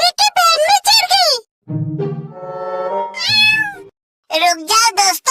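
A small cat meows repeatedly in long, wavering cries with short pauses between them, loud and close, and no talk is heard over them.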